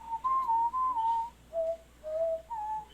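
A person whistles a short tune of sustained, sliding notes in several separate phrases, clear and close, with no talking.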